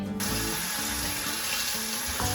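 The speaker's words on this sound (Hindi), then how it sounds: "अब हम इसे ऑयल में 1 से 2 मिनट के लिए फ्राई करेंगे मसाले के साथ" Marinated chicken tikka pieces sizzle in hot oil with spices, a dense, loud, continuous frying hiss with small crackles throughout.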